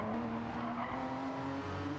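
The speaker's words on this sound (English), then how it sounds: "You're gonna hear the tires screeching" Porsche race cars in Gran Turismo 7 screech their tires at Monterey Bay, a sustained squeal held over steady engine drone for about two seconds with no talk.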